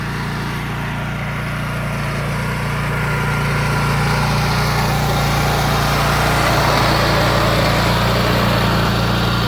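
BCS 739 walk-behind tractor tilling soil on a back plot in eastern North Carolina, a steady loud engine drone with rough churning that holds close throughout and swells slightly toward the end.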